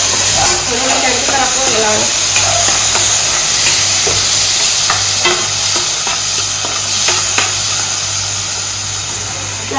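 Poha is stirred and roasted in a pan over a low gas flame, a loud steady sizzle with scraping strokes of the spoon and a voice talking now and then.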